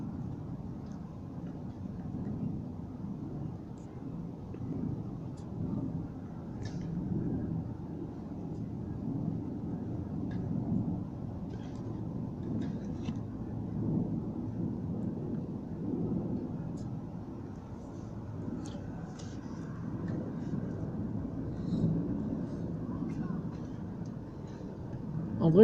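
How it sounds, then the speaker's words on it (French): Airplanes rumble overhead during a moderate thunderstorm in Saint-Denis, a low continuous drone that swells and fades over the whole stretch, fairly faint and distant. "c'est les avions qui font du bruit, c'est pas le tonnerre"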